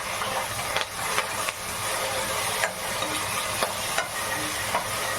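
Ground paste with curry leaves fries in a pan as a spoon stirs it, giving a steady close sizzle broken by a few scraping clicks against the pan.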